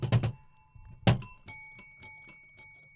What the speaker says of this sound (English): Dave, take these goddamn bells out of here.